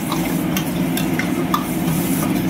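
Boiled, fried eggs stirred into a mushroom masala in a pan produce close, dense stirring and a thick, bubbling sizzle, with a few light clinks of the spoon.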